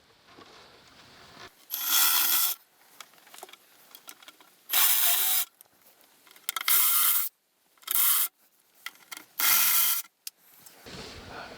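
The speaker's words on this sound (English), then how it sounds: "And then I'll put the step bit in." A step drill bit bores holes in a metal bracket, producing five loud, harsh grinding bursts of about half a second to a second each, separated by quiet gaps.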